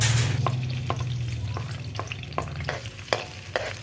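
Garlic sautéing in hot oil gives a steady close sizzle, broken by sharp scrapes and clicks of stirring at irregular intervals, with a low hum underneath.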